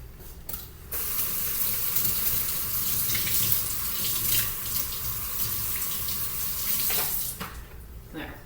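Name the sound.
water running in sink, rinsing a salty ice cream bag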